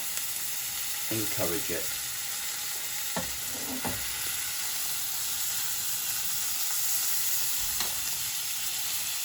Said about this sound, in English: I'm going to put a knob of butter into the pan to encourage